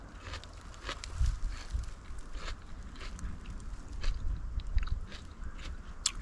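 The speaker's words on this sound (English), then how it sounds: "So as soon as I finish chewing" Someone chews a bite of burger wrapped in lettuce with tomato and onion outdoors, soft crunching and wet chewing going on steadily up close.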